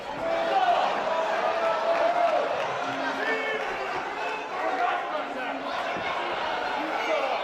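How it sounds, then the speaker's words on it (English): A wrestling crowd chanting at a Relentless Wrestling match, a steady roar of many voices with rhythmic chant swells, continuous and moderately distant, with a commentator talking over it. "Crowd is starting to chant Timu Goldberg at Royce Isaacs"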